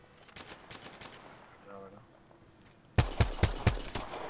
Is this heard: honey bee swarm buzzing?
no